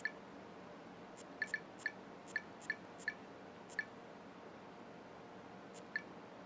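Keypad dialing tones on a Sanyo Innuendo phone by Kyocera: about ten short, faint beeps as numbers are keyed in, irregularly spaced over a steady low background hiss.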